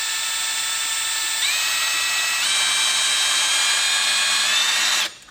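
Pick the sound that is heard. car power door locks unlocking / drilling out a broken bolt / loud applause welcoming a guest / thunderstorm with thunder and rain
drilling out a broken bolt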